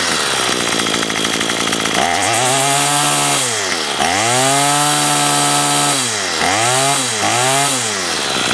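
Troy-Bilt TB22EC string trimmer with a new spark plug, its small two-stroke engine revving loudly and close, rising and falling in repeated throttle bursts after an idle.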